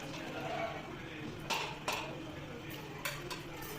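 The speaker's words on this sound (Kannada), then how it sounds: "ಇದು ಗೋಡಂಬಿ ಮತ್ತು ದ್ರಾಕ್ಷಿನ ಸ್ವಲ್ಪ ಲೋ ಫ್ಲೇಮಲ್ಲಿ ಇಟ್ಕೊಂಡು ಬೇಯಿಸ್ಕೊಳ್ಳಿ, ಹುರ್ಕೊಳ್ಳಿ" Cashews in hot ghee over a low flame: a soft, steady frying hiss beneath a few sharp metallic clinks and scrapes of a spoon against the pan.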